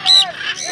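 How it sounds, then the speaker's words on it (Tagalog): A loud, close honking call from a macaw in free flight at an eco park, goose-like, with a second fainter call right after; brief and sharp. "Daming ibon."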